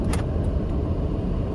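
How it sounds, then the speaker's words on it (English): Door locks on a 2018 Chrysler Pacifica engage with a quick mechanical clunk right at the start, heard inside the cabin over the low rumble of the moving minivan. "that was the doors locking."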